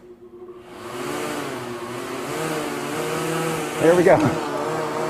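An engine-driven fan at a photo shoot runs with a steady droning roar that swells into a brief rev near the end, close by, while a person speaks briefly.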